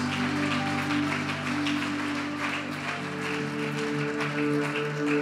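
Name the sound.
congregation applauding in church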